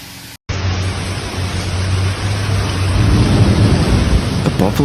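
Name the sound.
thunderstorm with heavy rain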